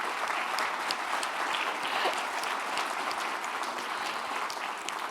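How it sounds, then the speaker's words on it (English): A civic audience at a city State of the City address claps loudly and steadily, a dense, sustained applause filling the whole stretch with no voices standing out. "we are still going to clap really loud and send her the tape"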